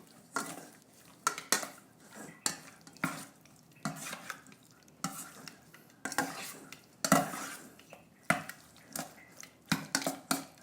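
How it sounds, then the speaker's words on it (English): Marinated chicken and shrimp tossed together in a bowl, giving a run of close, irregular wet slaps and utensil scrapes against the bowl, repeating in short bursts with brief pauses and no talking. "Now add the shrimp to this as well and give it a quick mix"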